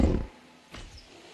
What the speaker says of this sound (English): They roar.